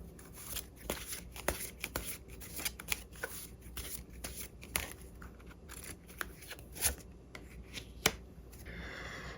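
Tarot cards shuffled by hand in a quiet room, a steady run of soft riffling and rapid crisp card snaps close by, with no voices.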